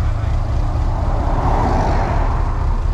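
A Renault Clio's engine roars steadily nearby, a loud continuous drone that swells slightly midway as it accelerates, with no voices heard.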